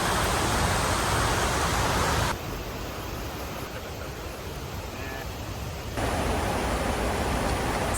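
Rushing roar of a waterfall at the bottom of steep stairs in Laos, a dense broadband hiss that drops quieter for a few seconds in the middle and then swells back.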